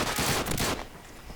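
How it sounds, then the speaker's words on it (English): Sniper rifle fire in Call of Duty 2 on the Toujane, Tunisia map: a loud, dense burst of shot and impact noise for most of a second, then dropping to a quieter tail. "I like this sniper rifle because instead of having 5 shots, you get, I think, 9 shots."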